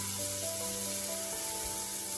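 Pancake batter sizzling in a buttered iron skillet, a steady close hiss of frying with faint stirring noises, no talking.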